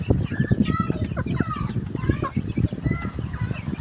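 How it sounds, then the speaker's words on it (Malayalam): A big rooster on a poultry farm clucks in rapid, close, loud bursts, with short gobbling calls running almost continuously. "വലിയ കോഴിയാണ്"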